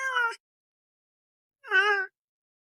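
Two short, close, meow-like cries are separated by a long pause. They match a cat meowing in a public place, with no other sound in between.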